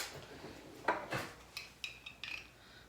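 A teaspoon stirs simple syrup into a sorrel Christmas drink in a glass garnished with mandarin orange, giving a few light clinks and scrapes of metal on glass, quiet and close, with no talking.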